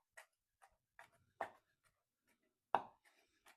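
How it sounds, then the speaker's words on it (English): A knife dices candied jalapenos on a cutting board in a quick, irregular run of sharp, close taps, two of them noticeably louder, in a quiet kitchen with no talking. "So I'm just going to dice these up real quick."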